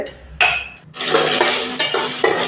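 Pots, pans and utensils clatter and scrape as a husband cooks at home, with sharp metallic knocks standing out over steady frying and stirring noise, close and fairly loud throughout.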